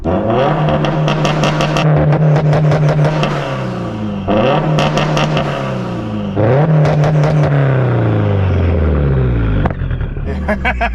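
A big-turbo Subaru STI sits on launch control, its engine revved again and again against the two-step limiter to build boost. Loud, close bursts rise and hold in a stuttering rhythm, with crackling pops between them.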